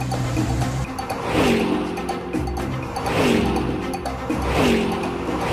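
A car engine revs up and drops back several times in a row as gears change, loud and close, each climb in pitch followed by a dip, with no talking.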